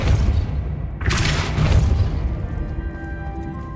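Depulso force spell cast in Hogwarts Legacy on PS5: one loud booming burst hits about a second in and fades over steady, dense game background noise.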